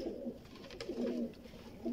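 Sialkoti red-pearl pigeon coos softly nearby, low rolling calls that swell and fade a few times over a couple of seconds.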